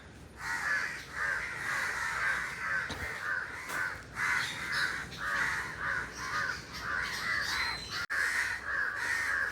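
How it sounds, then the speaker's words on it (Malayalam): Crows cawing repeatedly in quick, uneven bursts, fairly close and clear with no talking, several birds calling over one another throughout. "കാക്കച്ചകൾ ഇങ്ങോട്ട് വരുന്നുണ്ട്"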